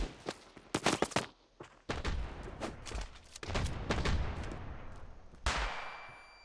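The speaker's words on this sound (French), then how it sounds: "Horizon qui va prélever directement en no-scope là sur Irakli. Homme qui va rater sa balle." Gunfire in the mobile shooter Standoff 2 during a competitive match: repeated loud sharp shots in uneven bursts, some single and some clustered, over a steady background of game noise.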